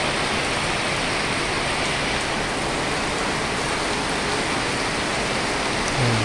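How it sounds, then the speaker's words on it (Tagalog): Steady, dense downpour of heavy rain, a constant broadband hiss with no gaps, close and loud throughout. "Grabe, lakas ng ulan talaga."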